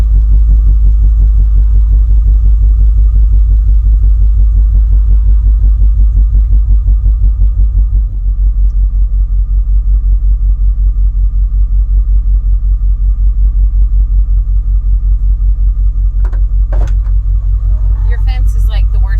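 A 1950 Cadillac engine idles as the big car backs up, a deep steady rumble with a faint regular throb running the whole time, loud and close, with a brief dip partway and light knocks near the end.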